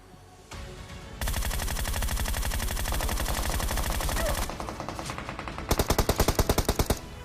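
Automatic gunfire sprays in PUBG, loud and close: a long sustained burst of rapid shots, a brief pause, then a sharper, more distinct volley of individual rounds near the end.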